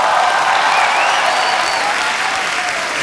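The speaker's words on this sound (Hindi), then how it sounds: "तो आप सबकी जोरदार तालियों के बीच बुलाना चाहूंगा हमारे मुन्ना माइकल" A studio audience on a TV comedy show applauds loudly and steadily to welcome a guest, a dense wash of clapping with no break.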